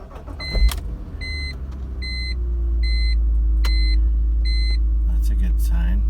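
An old car is started with the brakes on: chimes beep repeatedly as the engine cranks, catches and settles into a steady low rumbling idle, heard up close with clicks and small handling noises.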